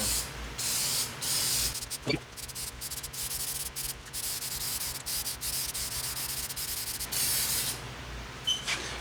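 A spray gun painting a Jeep Wrangler JK with Chrysler Agate paint in a paint booth, a close steady hiss in repeated passes cut by short pauses and small clicks of the trigger.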